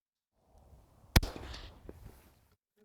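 A 5.56 rifle shot through a CAT WB Ti suppressor on a hub mount: one sharp, loud report followed by a dull, thudding decay and brief outdoor echo, with no voices.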